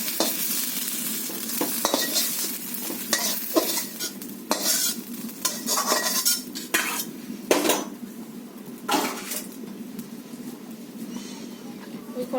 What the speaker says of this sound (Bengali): বেগুনটা আমার ভাজা হয়ে গেছে, তুলে নেব।